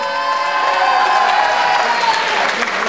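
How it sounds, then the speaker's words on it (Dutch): Dense applause and cheering from a crowd with some shouting kids, loud and steady throughout, honoring a FLL robotics team from Comenius receiving a wildcard. "Applaus!"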